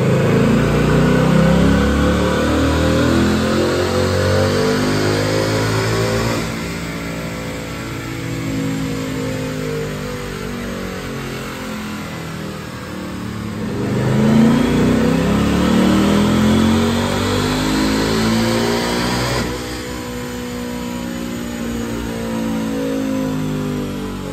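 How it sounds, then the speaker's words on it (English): A 2024 Ford Mustang GT automatic's V8 engine roars at full throttle on a dyno, revving up with a rising pitch, easing off, then climbing again in long sustained pulls, loud and close. "check out this dyno pull"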